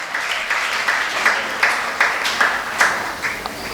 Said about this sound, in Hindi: उनके लिए ताली बजाओ कम से कम।